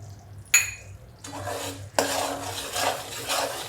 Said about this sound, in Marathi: आता ह्या लाया हलवून घेते